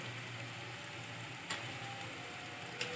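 Chopped tomato frying in oil with lata fish and kochur loti, a soft continuous sizzle with a couple of faint clinks, quiet and steady.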